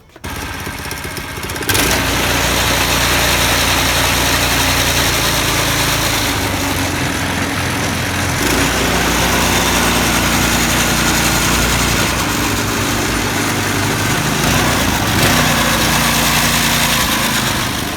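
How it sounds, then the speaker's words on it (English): A small go-kart engine idles steadily after a sputtering start, warming up on a cold night, a loud, constant rattling drone that runs without a break, close by. "we're gonna let the engine warm up a little bit longer this time"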